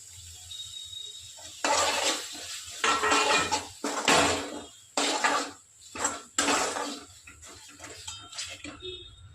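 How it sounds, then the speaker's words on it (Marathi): Spoonfuls of ground spice paste scraped and dropped into a hot pan for a spicy soybean curry, arriving as several bursts of clattering and sizzling with metal scraping against the pan, close by and fairly loud, with no talking. "हे सगळं वाटण मी आत टाकून देणार आहे"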